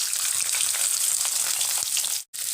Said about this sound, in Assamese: এতিয়া মই তেলত দিম এয়া কাটি থোৱা পিয়াজ